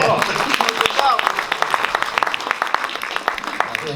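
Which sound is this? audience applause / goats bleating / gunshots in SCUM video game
audience applause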